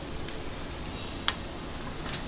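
Onions and green chilies sautéing in a pan for dhaba-style palak paneer, giving a steady, even sizzle with a few faint clicks of a spatula. No one talks.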